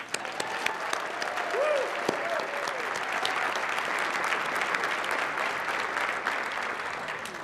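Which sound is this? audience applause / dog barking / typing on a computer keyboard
audience applause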